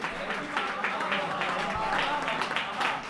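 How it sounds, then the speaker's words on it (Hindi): A crowd claps at a Hindi kavi sammelan poetry gathering, giving a dense, even wash of applause that carries on for a few seconds. "एक बार इनके लिए तालियां बजाइए।"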